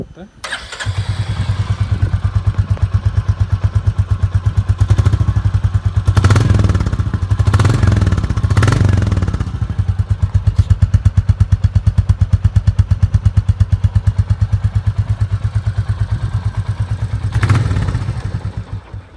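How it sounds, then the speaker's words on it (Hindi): A Royal Enfield Classic 350 Next Gen on its stock exhaust fires up and runs, a loud, close, steady single-cylinder thump with a couple of throttle blips partway through and a voice speaking briefly over it. "स्टॉक एग्जॉस्ट भी इसका अच्छा है, मैं आपको सुना देता हूँ"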